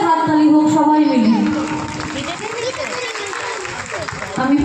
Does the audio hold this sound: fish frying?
no